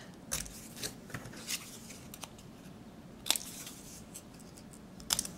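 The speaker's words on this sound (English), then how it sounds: "I'm going to start by cutting one of them vertically and cut off the little points." Scissors snip through a paper mat for die cut shapes, a few crisp separate cuts spaced irregularly over quiet room tone, close and fairly faint, with no speech.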